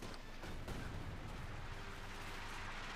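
Mortar and artillery fire in Company of Heroes 2, with dense, continuous battlefield rumble and a few sharper percussive thumps standing out near the start, steady and fairly loud throughout.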